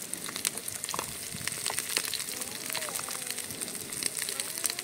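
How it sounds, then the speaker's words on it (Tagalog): Oil crackles and sizzles steadily as dried fish fries, with sharp pops scattered throughout and faint background sounds underneath. "prito tayong tuyo"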